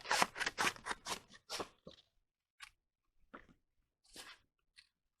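Scissors snip through white paper shoes for a toddler's Pete the Cat craft in a quick run of crisp close cuts, then a few scattered, quieter snips.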